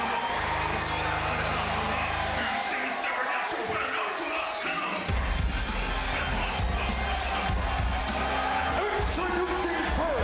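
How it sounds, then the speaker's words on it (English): A wrestling crowd in New York City roars and cheers continuously, loud and dense throughout, with whoops and shouts rising out of the sustained noise. "This crowd showers Carlito with lots of love here in New York City."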